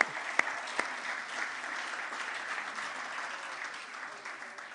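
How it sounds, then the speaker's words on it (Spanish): A church congregation applauds in a continuous wash of many clapping hands, opened by a couple of sharp, distinct claps and then holding even and moderately loud to the end. "Un aplauso al Señor."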